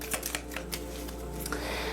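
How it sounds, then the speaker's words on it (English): Rapid papery riffling of tarot cards being shuffled, a steady stream of soft flicks and taps with a few sharper snaps, close by and alone. "Let me go ahead and shuffle a little bit."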